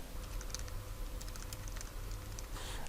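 Rapid typing on a computer keyboard while writing a document in MS Word, a dense patter of close key clicks over a steady low hum.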